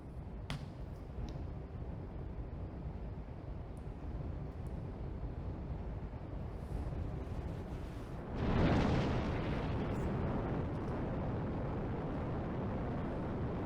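A rocket launches in the modded Minecraft game All The Mods 9, a steady low rumble swelling into a sudden loud roaring whoosh at liftoff that then holds as a sustained engine roar.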